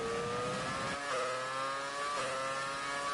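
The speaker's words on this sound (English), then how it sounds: "Lovely sound of these cars, by the way, absolutely amazing." Race cars run past at a distance, their engines a thin, steady whine that shifts pitch as they go by, fairly faint and with no voices.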